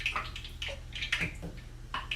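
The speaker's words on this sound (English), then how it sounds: "So I'm just splashing a little bit of water in the dough." Water splashes and trickles into dumpling dough in a home kitchen in a few quiet, quick splashes and pours, with a low steady hum beneath.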